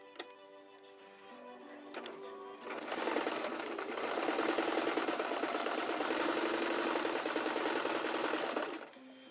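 A Brother LS 2125 sewing machine stitches in a fast, even mechanical clatter, starting after a few slower ticks and running loud and steady for several seconds before stopping.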